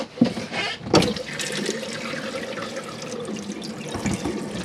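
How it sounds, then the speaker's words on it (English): In a 2015 Auto Trail Tracker EKS campervan washroom, hot water gushes steadily from a tap as the onboard pump runs, a continuous close splashing rush after a couple of clunks at the start. "Just showing you water pump working, and that the water is very hot now."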